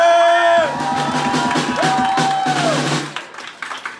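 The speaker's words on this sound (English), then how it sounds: "One big ass round of applause." A crowd claps, cheers and whoops for a band at a live show, loud and close, layered over sustained held musical tones that fade out, the clapping thinning into scattered claps at the end.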